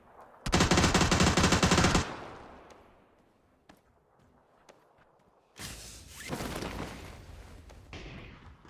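PUBG gunfire on PC: a loud, rapid automatic burst lasts about a second and a half, a few faint single shots follow, then a second sustained volley of fire.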